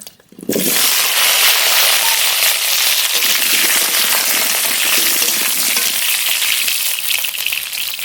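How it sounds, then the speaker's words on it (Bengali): Cut potatoes dropped into hot mustard oil in a wok burst into a loud, dense, crackling sizzle that starts abruptly and holds steady and close throughout. "কড়াইতে সর্ষের তেল দেব আলু ভেজে নেব"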